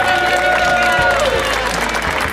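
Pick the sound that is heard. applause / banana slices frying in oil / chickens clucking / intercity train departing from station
applause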